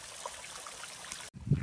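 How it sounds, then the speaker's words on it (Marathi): Water trickling and flowing along a channel in a village farm field, a steady soft broadband stream heard up close, with a brief break and a louder gush near the end. "इथून असं फोडल्यावर पाणी पाठी जातं"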